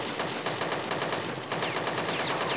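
An automated turret in the video game Dead Effect fires at the player in a dense, unbroken stream of rapid machine-gun shots. The fire is loud and close and continues through the whole clip.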